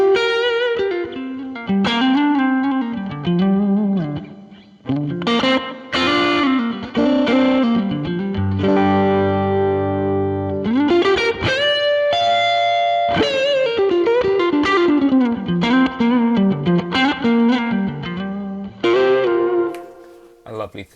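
Electric guitar through a Blues Breaker overdrive pedal modeled on a Fractal unit, playing a bluesy lead with bent notes, sustained chords and a mildly crunchy, warm distorted tone, loud and continuous with no talking.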